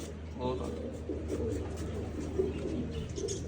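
Pigeons coo low and steadily in a loft, a continuous throaty murmur with a few brief higher chirps, close and moderate over a constant low hum.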